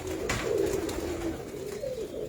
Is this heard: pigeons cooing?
yes